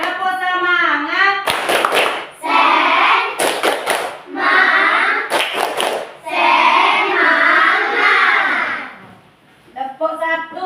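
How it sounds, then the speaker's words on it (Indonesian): A class of children chants loudly in unison while doing a rhythmic spirit clap, with short bursts of quick, sharp hand claps breaking in between the sung phrases. "Nah, tepuk semangat semuanya."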